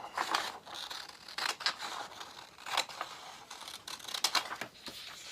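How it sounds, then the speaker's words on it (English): Scissors snip through a sheet of 8.5 by 11 paper along a marked line, a quiet close series of crisp rasping cuts in uneven bursts with short pauses between them. "Take your scissors and just cut right on that line."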